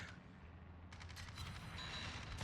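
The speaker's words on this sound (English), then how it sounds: "Lining up for a second salvo in the center of the ship this time." Naval guns fire a salvo in World of Warships, a faint, distant volley of booms rolling in over steady low engine and sea rumble, the shots coming in quick succession.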